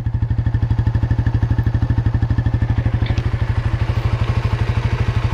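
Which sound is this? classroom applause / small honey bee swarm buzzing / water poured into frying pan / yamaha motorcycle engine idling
yamaha motorcycle engine idling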